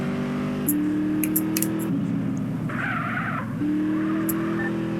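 Car in GTA San Andreas driving with a steady engine drone that shifts pitch, plus a burst of tire skidding midway, loud and continuous, with no talk.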